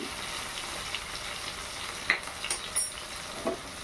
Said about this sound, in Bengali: নেড়ে চেড়ে কষিয়ে নেব কিছুক্ষণ ধরে।